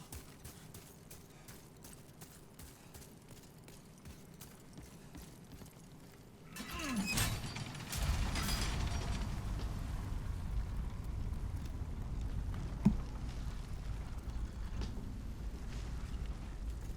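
An elevator in Demon's Souls starts up with a creak and a heavy mechanical clunk, then settles into a steady low rumbling drone as it moves, with one sharp knock partway through.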